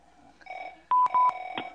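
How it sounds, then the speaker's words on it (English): A telephone plays dialing tones on a live chat broadcast: a few soft tones come first, then several loud, sharp keypad beeps in quick succession, close and clear, with no voices. "Oh, that's a telephone."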